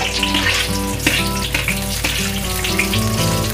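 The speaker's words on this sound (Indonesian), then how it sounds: "Jadi digoreng begini dia serainya akan wangi dan minyak serainya akan keluar ya." Lemongrass fries in hot oil with a loud, steady sizzle and crackle close up, continuous throughout with no talking.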